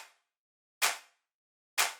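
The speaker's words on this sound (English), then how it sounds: "we are cutting off the tail so that the clap is still kind of tight." A tight minimal-techno clap with gated reverb and its tail cut short hits twice, each a sharp bright burst that stops abruptly, with a faint decaying tail of an earlier hit at the start.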